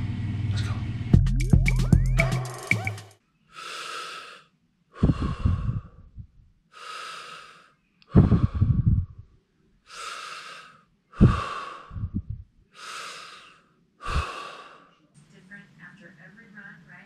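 Slow deep breathing exercise, a series of long, loud inhales and exhales repeated at an even pace, close to the mic, with noisy rustling at the start.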